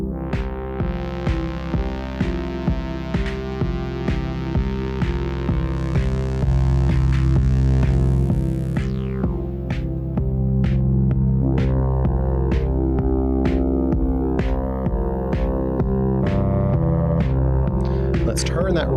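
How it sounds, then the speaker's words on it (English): A Moog synthesizer playing a deep, sustained bass drone under a steady pulsing arpeggiated pattern with rhythmic ticks, with a bright filter sweep rising midway and then cut off; loud and continuous. "The bass line's more of a bass drone, but we got a Moog in front of us."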